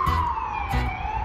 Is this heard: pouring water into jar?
no